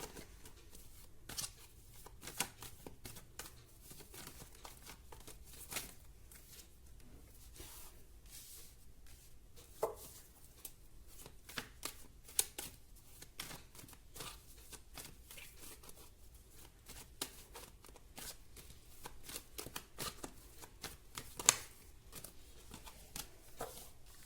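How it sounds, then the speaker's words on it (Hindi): Tarot cards are shuffled and drawn by hand, with soft repeated riffling flicks and light papery taps scattered throughout, faint and close, set against a quiet room. "मैं एक बार में कार्ड निकाल देती हूँ"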